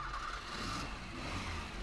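Car engine in a police driving game, heard as a steady mid-pitched motor rumble that swells slightly as it revs, continuous and fairly close with no talking.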